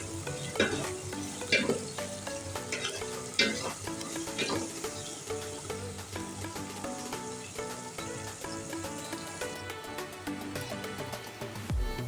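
Aloo korma curry being stirred and fried in a pan, a steady sizzle with repeated scraping strokes of the spoon throughout, close and fairly loud with no talking.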